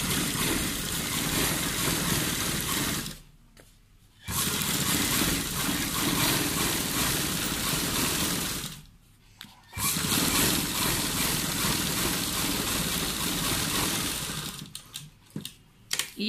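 Sewing machine stitching a straight seam on a shirt collar, a steady close mechanical whir in three long runs broken by brief pauses.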